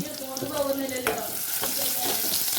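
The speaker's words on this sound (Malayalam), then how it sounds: "എണ്ണ ചൂടായ ശേഷം അതിലേക്ക് കുറച്ച് ചെറിയ ഉള്ളി അരിഞ്ഞത് ഇട്ടിട്ട്" Chopped shallots hitting hot oil in a pan for a prawn curry, a close, bright sizzle with crackling bursts and a sharp spatter near the one-second mark, then steady frying with some stirring.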